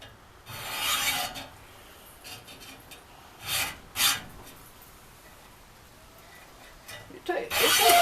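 A homemade pallet-breaking tool cuts through wood, its blade scraping in a metal channel with rough, rasping strokes in short bursts, separated by quieter pauses and a few faint sounds in between.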